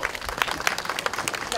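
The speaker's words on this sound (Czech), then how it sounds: "Prosím, potlesk." Crowd applause at an outdoor town honey festival, a steady moderate patter of many hands lasting a moment.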